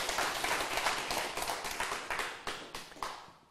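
Soft, steady applause from a Buddhist lecture audience, a continuous patter of many hands at moderate distance with a few sharper individual claps standing out.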